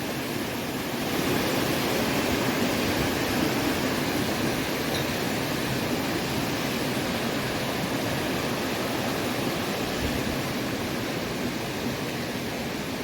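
Steady, loud rushing of a swollen mountain valley stream in Chilseon Valley on Jirisan in autumn, high after heavy rain, a dense continuous roar of water close by with no voices.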